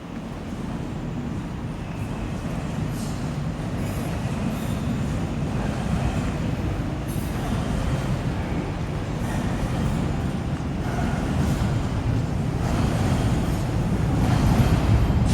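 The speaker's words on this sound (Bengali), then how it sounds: "এই যে ডিএলআর লাইন উপরে" A DLR train on the elevated line at Canary Wharf rumbles past overhead with a steady rolling roar and faint wheel squeal, building slightly louder toward the end.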